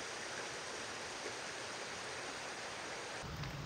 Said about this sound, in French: Regarde, il y a une mini cascade.